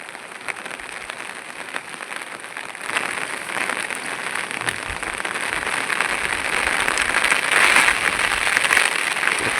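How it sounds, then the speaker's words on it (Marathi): Heavy rain falls at a creek during fishing, a dense hiss of drops that grows louder and fuller over several seconds, with no talk. "पाऊस पण आला मित्रांनो जोरात"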